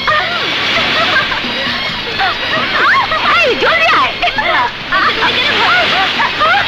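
Water sloshes and splashes continuously amid lively crowd chatter and shouting voices, with someone calling out nearby.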